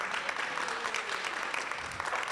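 Audience at a youth expo networking session applauds, a fairly faint but continuous spread of clapping hands that holds steady without speech over it.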